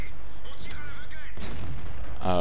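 A World of Tanks tank gun fires in the video game: a single heavy, booming artillery-like shot with a short rumbling tail, loud and close, followed by a brief burst of game sound.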